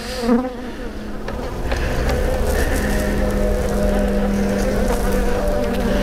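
Honeybees buzzing loudly and close around an open nuc hive during an inspection in the UK, a dense steady drone that rises after the first second and holds.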